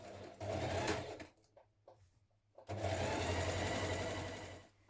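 A sewing machine stitches the side seam of a fleece hoodie in two bursts of rapid, even mechanical whirring, separated by a short pause. The machine sounds close and there is no talking.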